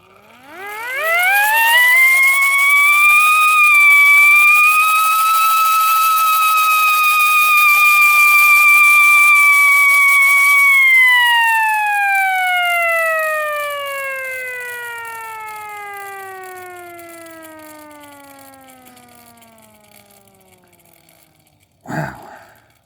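A hand-cranked siren winds up to a loud, steady wail, holds at full pitch, then slowly winds down with a falling tone, ending with a brief clunk.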